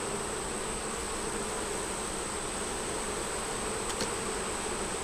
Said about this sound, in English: Has a bee that I put my finger on.